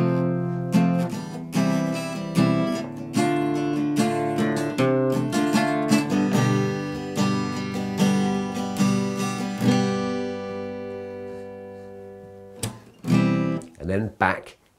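Played on guitar, the chord sequence from a well-known song strums through a series of ringing chords at a steady pace, dying away near the end before a few sharp strums and a brief voice.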